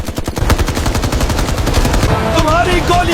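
Rapid bursts of automatic gunfire crackle loudly at a boat during an action film scene, dense repeated shots filling the whole stretch with a brief voice underneath.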